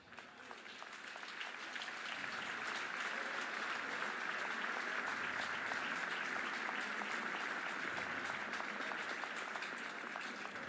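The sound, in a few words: baseball fans applauding injured player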